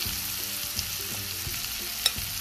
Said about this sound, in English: I'm just gonna go and let this fry really nicely and get caramelized